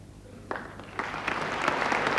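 A political party conference audience applauds after Margaret Thatcher's speech in Brighton in 1984, clapping that starts scattered and swells into dense, sustained applause filling the hall.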